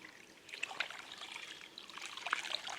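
A small mountain spring on a hiking trail trickles steadily, a soft close babble of running water with faint splashes and no voices.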